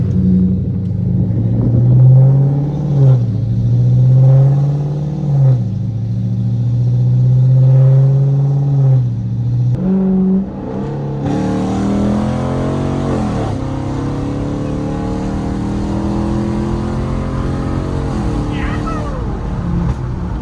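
A 5.7 Hemi car pulls hard in second gear, the engine note rising loudly in repeated surges, then easing off into a lower rumble with a voice talking over the later part.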